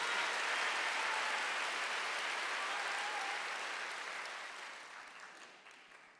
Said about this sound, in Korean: 깨달았으면 박수 쳐보세요.